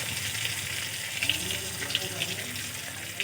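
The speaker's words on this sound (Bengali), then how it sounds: "মশলার বাটি ধুয়ে কিছুটা জল দেব।" Tap water runs steadily while a spice bowl is rinsed in a kitchen while cooking a fish curry with potatoes, a continuous close splashing stream with a few small clinks of the bowl.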